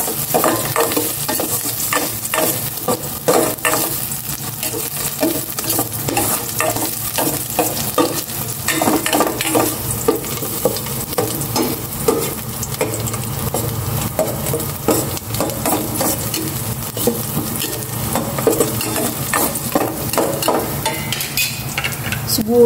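Garlic sautés in a hot pan with a continuous sizzle and fry that run throughout, broken by repeated scraping stirs of a utensil against the metal. No one speaks.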